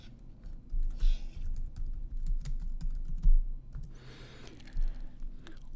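Keys tapped on a computer keyboard to type in a name, a steady run of light clicks with a few louder strokes, fairly close and with no voices.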